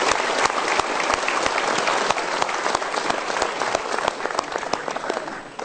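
A studio audience at an Indonesian motivational talk show claps steadily for several seconds, a dense, loud patter of many hands that eases slightly at the end.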